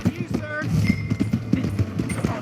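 Rapid clip-clop of horse hooves at a quick pace in the video game Red Dead Redemption, with people talking over it and a brief shout.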